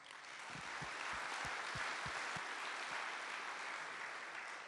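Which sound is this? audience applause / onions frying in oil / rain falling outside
audience applause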